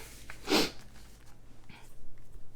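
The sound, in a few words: sniffle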